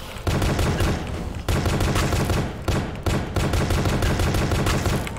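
Rapid automatic gunfire from the video game Dread X Collection: Pony Factory rattles in loud, sustained bursts broken by short gaps, dense and close, with no voices.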